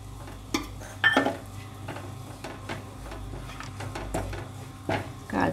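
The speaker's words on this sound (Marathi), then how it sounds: "आता आपण हे बारीक केलेले ड्रायफ्रूट सर्व त्यामध्ये परतून घेऊ" Chopped dry fruits, dry dates and coconut, being fried in hot ghee, with a spoon scraping and clinking against the pan in scattered irregular strokes over a low steady background; no talking.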